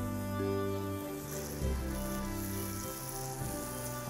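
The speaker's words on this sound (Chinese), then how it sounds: "那我们加入高汤" Stock poured into a hot pan of curry powder and oil, giving a steady loud sizzle with a low bubbling hum throughout, no voices.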